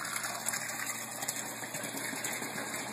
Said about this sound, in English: Water pumping in from the sump.